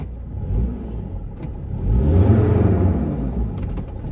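A Mercedes Sprinter 2500 van with a failed transmission, stuck in limp mode, gives a close, heavy engine rumble that rises and falls as it strains to pull. The tone is low and droning, with no talk.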